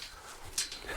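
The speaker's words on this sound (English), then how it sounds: "There's no dogs in here, but you're close to them. You can hear them barking." Faint dogs barking in the distance, with a short yelp standing out briefly against a quiet background.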